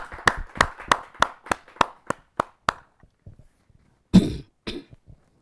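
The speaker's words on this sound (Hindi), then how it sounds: "आइए जोरदार तालियों से हम उनका स्वागत करते" Clapping welcomes a poet at a Hindi kavi sammelan: about ten evenly spaced, close, crisp claps that fade out, followed after a pause by a couple of coughs or throat clearings.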